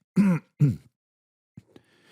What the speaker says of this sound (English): after I eat, I got to clear my throat